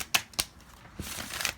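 Tarot cards being shuffled by hand, a few quick riffling snaps followed by softer sliding card sounds, close and quiet with no talking.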